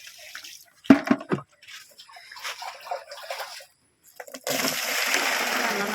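A few sharp splashes, then a steady rush of water pouring, close by and fairly loud after a short quiet gap.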